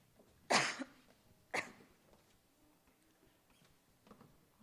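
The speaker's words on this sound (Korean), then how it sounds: "죄송합니다. 자꾸 기침이 나와서." Two separate coughs from a woman at a church Sabbath school gathering, close and fairly loud, then a fainter throat sound amid quiet room noise.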